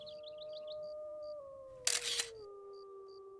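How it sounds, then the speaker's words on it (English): Long, sustained wolf howls rise and hold across the clip in Yellowstone, with faint bird chirps and a sharp camera-shutter burst near the middle. "their howls once again echo through the valleys as new wolves reclaim their voice"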